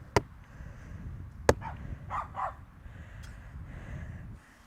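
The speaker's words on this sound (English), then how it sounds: "The other dog barking was Swift, because she goes, you're doing something and I want to be involved." A dog barks from somewhere nearby during a puppy-level Good Citizen socialisation exercise, two sharp loud barks followed by softer yips and whines over a low background rumble.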